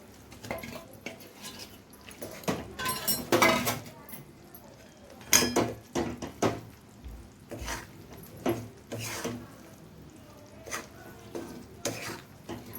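A spoon scrapes and stirs peanut powder into melted jaggery in a pan, making irregular bursts of scraping and metallic clinks with pauses between them, close and fairly loud, while someone talks over it.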